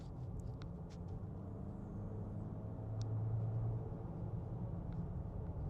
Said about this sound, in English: You can hear that transmission changing the gears.